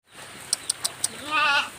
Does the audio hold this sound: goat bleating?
yes